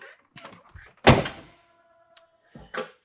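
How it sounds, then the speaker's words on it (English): The entry door of a 2026 Newmar Freedom Aire motorhome shuts with one solid thunk and a short latch rattle. Softer clicks and handling noises come before and after, with someone speaking briefly. "So if we close the door again,"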